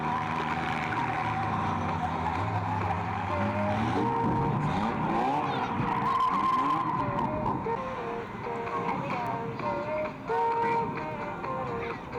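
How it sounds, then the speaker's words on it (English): Race cars spin their wheels at a raceway, tyres squealing and engines revving loudly in a continuous, close roar with rising and falling tones, while a commentator speaks faintly underneath. "A lot of wheel spin already off the 252"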